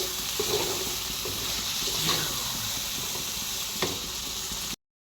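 Tomatoes hiss and sizzle steadily in a pan, a dense close-up frying wash with faint stirring scrapes and no voices.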